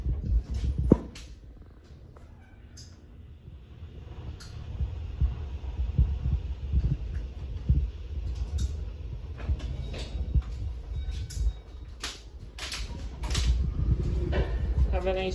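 A fast Kone traction elevator at LaGuardia Terminal B runs with a low, steady rumbling hum and some faint clunks, partly under nearby talk.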